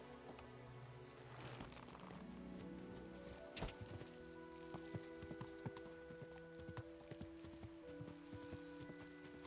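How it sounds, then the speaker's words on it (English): Horse hooves clip-clopping in the video game Kingdom Come: Deliverance II, faint rhythmic hoofbeats on hard ground with a steady pace against a quiet ambient background. "Let's go get that horse"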